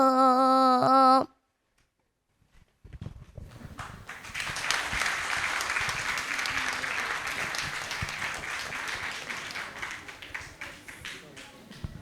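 Audience applause for a contestant at a children's holiday talent semifinal, a dense sustained clapping that builds after a short musical sting and a pause, filling the room steadily to the end.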